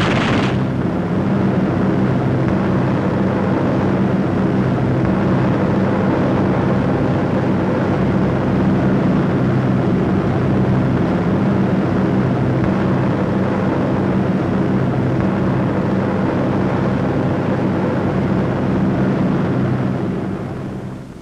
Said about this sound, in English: as the fortresses leave the smoking target behind, they resume formation